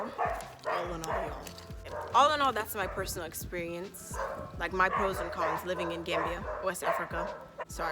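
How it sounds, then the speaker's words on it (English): Dogs bark and yip in short bursts at a home in Gambia, West Africa, heard close by beneath a person talking continuously. "excuse my dogs"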